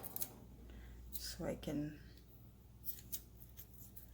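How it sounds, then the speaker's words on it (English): A few quick snips of scissors cutting crochet yarn, close and crisp, with someone talking softly around them. "I'm just gonna use my scissors to clip my yarn"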